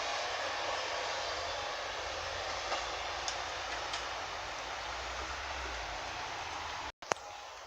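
Faulty-engined Class 156 diesel unit 156412 at Westerfield gives a steady, fairly quiet droning hiss over a low rumble, continuous for several seconds with a brief dropout near the end.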